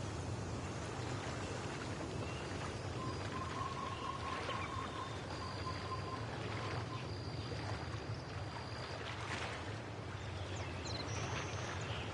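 Steady rain in a video game, a soft continuous patter and wash that runs throughout at low level, with faint tonal sounds drifting in and out.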